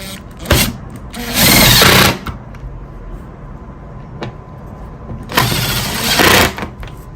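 Power tool tightening cargo drawer parts together: two close, loud bursts of a motor whirring for about a second each, with short clicks and handling knocks in between.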